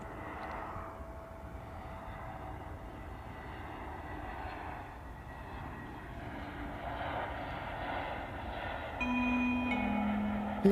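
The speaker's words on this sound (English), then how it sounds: "Egypt Air's touched down" An Egypt Air airliner touches down at the airport, its engine roar a steady, moderately distant rumble that swells slightly toward the end, where a brief electronic chime tone sounds.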